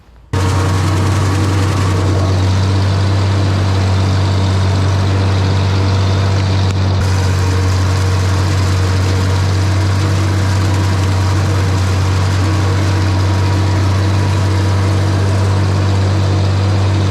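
Oliver tractor engine running steadily at idle, a strong low drone with a constant rumble throughout, close and loud, no talk.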